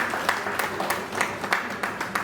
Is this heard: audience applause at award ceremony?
yes